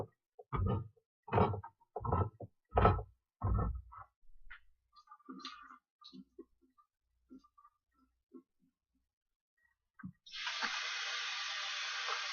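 Juice from an opened can of tuna pours into a kitchen sink, a steady splashing stream arriving near the end after a stretch of brief clattering handling noises.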